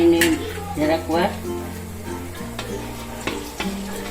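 Dahi vadas fry in hot oil, sizzling steadily while a spoon stirs and scrapes the pan in a few clattering strokes, with a person talking over the cooking.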